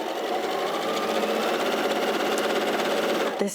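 A quiet, smooth, fast sewing machine stitches fabric in one continuous close whir that stops abruptly near the end.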